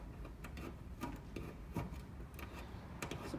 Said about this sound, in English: you could also use a plastic razor blade like this